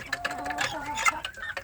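Free-range village chicks (ayam kampung) clucking and peeping close by, with a busy run of short chirps and clucks overlapping one another.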